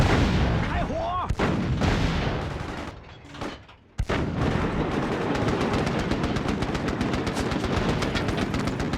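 Tank cannon and machine gun fire in the PS2 video game Mercenaries: heavy booming shots, a lull near the middle, then a loud sustained barrage of rapid gunfire, with a little shouting.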